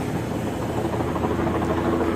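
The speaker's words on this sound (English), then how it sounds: "3 choppers just like hovering up there." Several helicopters hovering overhead near a highway crash scene on Interstate 84 in New York give a continuous, steady rotor drone, fairly loud and unbroken, with no talk.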